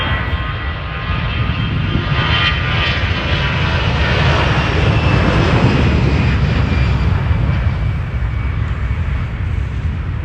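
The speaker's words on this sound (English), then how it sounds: "So here we have an Airbus A320, for example." A LATAM Airbus A320 takes off at Miami, its jet engines a loud, broad roar that swells and holds steady as the plane climbs nearby, with no talking.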